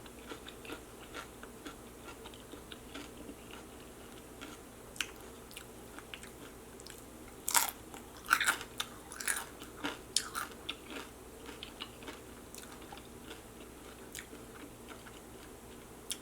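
Someone bites into crunchy cucumber up close, giving a few sharp crisp crunches followed by quieter, scattered chewing against a low, hushed room background.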